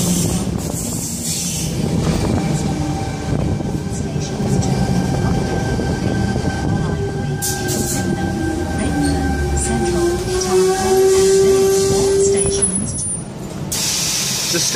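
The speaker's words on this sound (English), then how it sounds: "Anyway, train's now departing." A Sydney Tangara train pulls into Mortdale station and then departs, with a loud rumble, squealing wheels and hissing air brakes over a steady platform ambience.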